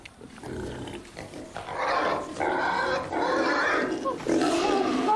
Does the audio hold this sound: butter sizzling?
no